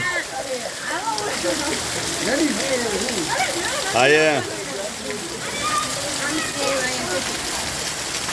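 Torrential rain pours down with a constant wash of splashing water beneath loud, animated voices that talk and exclaim throughout.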